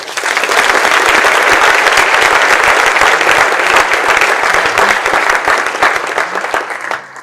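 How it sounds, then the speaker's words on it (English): Loud, dense applause fills a room as a school professional development day audience welcomes a guest presenter, sustained steadily for several seconds before tapering off at the end. "How about a round of applause?"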